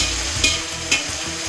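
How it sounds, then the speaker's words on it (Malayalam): Banana chips (upperi) sizzle in hot oil for Onam, a steady close frying hiss with two brief stirring clinks, no talk. "ആദ്യമായിട്ട് ഓണത്തിന് ഉപ്പേരി വറുക്കുമായത്."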